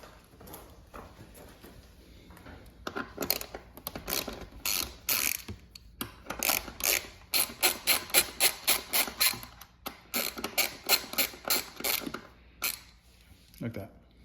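Rapid ratchet clicks in repeated bursts as bolts come out with a 4 mm Allen bit on a 2021+ Aprilia RS 660 / Tuono 660 tail section, loud and close, with short pauses between runs.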